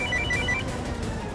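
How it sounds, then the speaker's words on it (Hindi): A telephone rings with a short repeating electronic tone, a few bright pulses in the first half that then stop, over a steady low background hum. "पहले रिंग गई और अब फोन स्विच ऑफ आ रहा है।"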